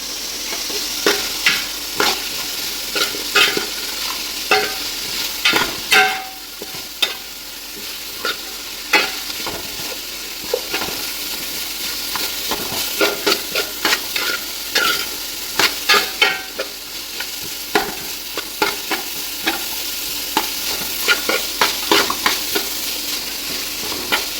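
Onions sautéing for a beef curry, a steady close sizzle overlaid with frequent rhythmic scraping and knocking of a spoon stirring in the pan, no voices.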